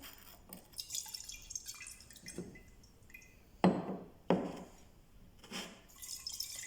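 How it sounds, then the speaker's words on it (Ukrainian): A glass flask of magnesium sulfate solution is stirred, giving soft sloshing and a few sharper clinks and splashes against the glass, quiet and irregular. "Далі ми ретельно перемішуємо, щоб у нас сіль розчинилася"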